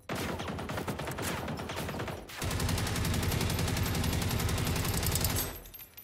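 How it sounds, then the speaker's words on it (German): Rapid automatic gunfire from the video game Generation Zero, with steady bursts for about two seconds and then a louder, sustained stream of shots that cuts off near the end, with no speech. "Ich muss jetzt nur noch drauf schießen."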